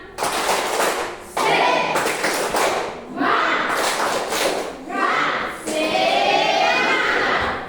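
A classroom group performs a rhythmic spirit clap, bursts of sharp claps and thumps in repeated patterns separated by short pauses, loud and close with children's voices mixed in.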